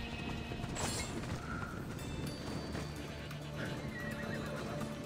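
A horse in the video game Assassin's Creed Odyssey neighs and whinnies over a steady background, with hoof clip-clops nearby; no one speaks.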